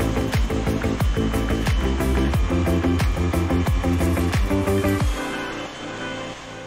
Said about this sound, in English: while I get on with drilling these holes